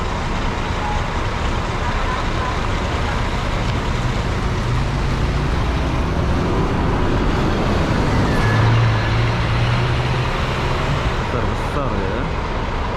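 Large buses idling and moving at Kota Bharu bus terminal in Kelantan, Malaysia, a loud constant low engine rumble with traffic noise and a brief rising drone near the middle, no talk.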